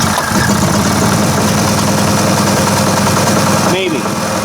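A generator engine idles steadily in cold winter weather, a loud continuous low rumble with a constant drone, close by and unchanging until a brief shift near the end.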